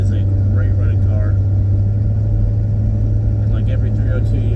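A restored 1968 Ford Galaxie 500 with a 302 V8 drives with a steady low engine drone and road rumble, while someone talks over it.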